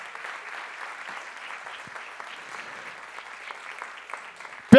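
A church congregation applauds during a celebration service, a steady, moderately distant patter of many hands clapping, ending with a sudden loud bump close to the microphone.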